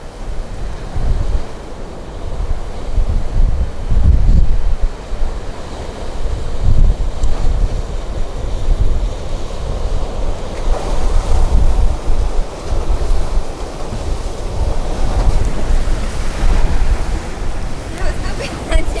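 Sea waves break and wash onto a shore in Greece, a loud continuous roar that swells and recedes, heavily mixed with wind buffeting the microphone.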